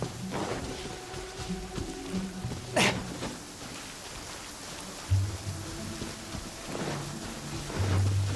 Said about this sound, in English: There is no purer form of water than rain.